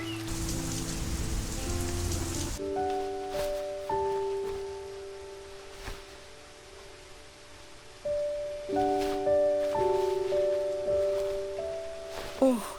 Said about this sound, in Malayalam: ഓ, എന്തൊരു മഴയാ,